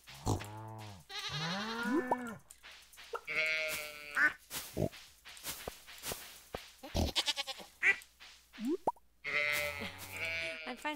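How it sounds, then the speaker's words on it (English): A young goat in a farming video game bleats again and again, close and fairly loud, mixed with short grunts and soft plopping sounds, with no talking. "look at the little new goat"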